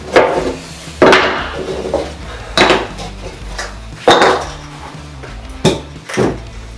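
A KMC S1 bike chain is handled during installation on a General Hustler Pro BMX build, giving close metallic clanks and rattles that come about every second or so with quieter jingling between them. No voices are heard.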